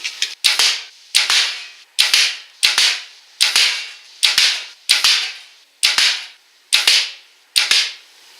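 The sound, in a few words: broadhead arrows shot through 22 gauge plate steel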